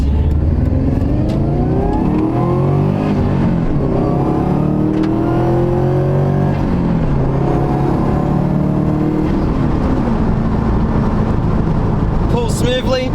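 A turbocharged Subaru WRX engine revs up hard and loud, climbing in pitch through the gears with a turbo whine, close by and continuous.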